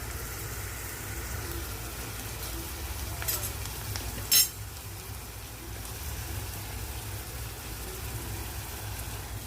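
Chopped onions frying until brown in a pan, a low steady sizzle throughout with one brief metallic clink of a utensil partway through.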